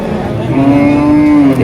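Heifers and other cattle at a crowded cow market in Tangail, Bangladesh; one loud, close, drawn-out moo rises over the steady hubbub of the market.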